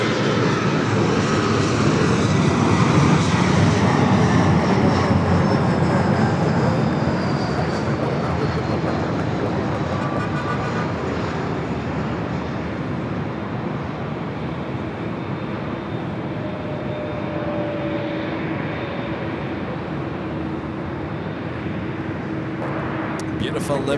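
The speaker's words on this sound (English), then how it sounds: "Here comes on the pond, the Dreamliner heading back to Tokyo Narita" A Boeing 787 Dreamliner departing LAX for Tokyo Narita roars loudly with a whining turbine tone that slowly shifts pitch. The sound fades gradually, and a voice talks over the engine noise.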